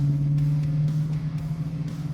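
A 1969 Chevy Camaro, a 1000-horsepower classic on a Roadstershop chassis, cruises along with a steady low engine drone and a faint pulsing rumble, heard from inside the car with no talking.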